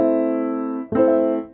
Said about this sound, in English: And what Q Flam does is it spreads out the notes